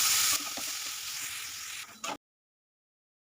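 Boiled taro stolons hit a hot pan of fried onion and garlic, setting off a loud, close sizzle that hisses for about two seconds and then cuts off abruptly.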